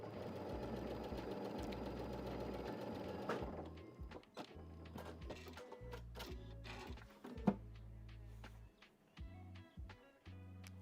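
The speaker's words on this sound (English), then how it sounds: "I'm gonna test sew on fabric first" A sewing machine test-stitches on fabric, its motor whirring steadily at first, then running in short start-stop bursts with gaps between them, close and fairly quiet, with no talking.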